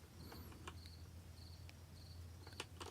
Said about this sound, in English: There's an app called Ambient, an atmosphere, and there's literally a cricket sound.